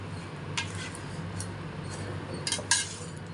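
Lemon rice pulihora stirred with a metal ladle in a pot, a few sparse light clinks and scrapes over a faint background hum, the sharpest knocks bunched near the end.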